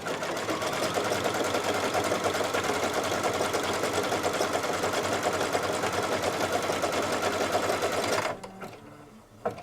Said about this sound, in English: now it's going to do a tack down stitch for that fabric.